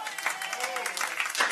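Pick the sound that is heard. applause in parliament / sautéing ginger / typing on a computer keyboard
applause in parliament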